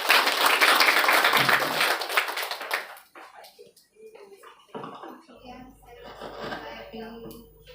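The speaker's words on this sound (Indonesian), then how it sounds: "Beri tepuk tangan yang meriah." Audience applause at a motivational event at a polytechnic campus in Jakarta, a burst of clapping for about three seconds that fades into quieter room noise and scattered voices.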